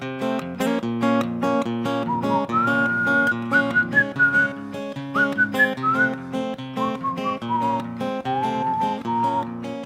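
A person whistles a slow, mournful melody over a steady strummed accompaniment in a songwriter performance, the clear tune rising and falling in sustained phrases throughout.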